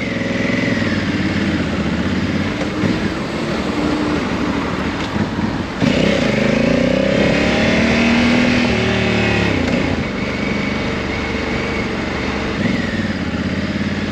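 A 2022 Honda Africa Twin motorcycle engine runs loudly and continuously, revving up and down as it rides along, pitch rising and falling with the throttle.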